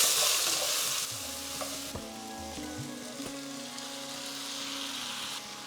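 Roughly chopped tomatoes frying in a pan for a chicken makhani base, a steady close sizzle with occasional scrapes and clinks of stirring, no voices.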